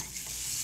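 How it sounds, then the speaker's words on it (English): Shrimp sauteing in a little butter in a hot skillet, giving a soft, even sizzle with a faint stir, brief and quiet with no voices. "got your shrimp sauteing in a little butter"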